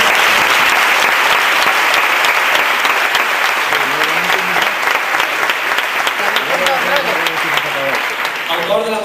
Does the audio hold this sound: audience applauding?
yes